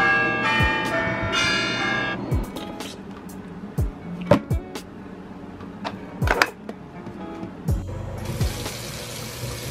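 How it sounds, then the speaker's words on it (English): A phone alarm goes off with ringing, bell-like electronic tones for about two seconds, followed by scattered knocks and clinks in a quiet room. "Well, there go my other alarm."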